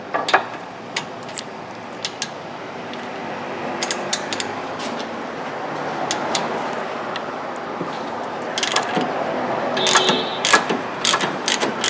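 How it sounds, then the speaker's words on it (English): A ratchet wrench clicks in quick repeated bursts while 17 mm bolts come off the rear brake caliper bracket of a 2014 Honda Pilot, the sharp pawl ticks close up over a faint workshop background. "we're going to take out that 17 millimeter bolt there and the other 17 millimeter bolt right there"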